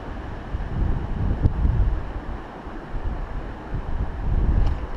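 Gusty wind buffets a microphone beside a river during fly fishing for chub and rainbow trout, a continuous low rumbling roar that swells and eases, with no talking.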